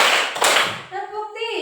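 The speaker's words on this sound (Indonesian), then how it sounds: "Tepuk 1, tepuk 2, tepuk 3, tepuk 1, tepuk 2," Classroom clapping in a counted rhythm, a short burst of claps from a group of students before the sound gives way to tonal, voice-like tones near the end.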